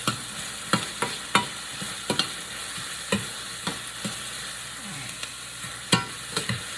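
Vegetables seasoned with salt and pepper saute in a pan, with a steady low sizzle under repeated sharp scrapes and clacks from stirring, all close up and with no talking.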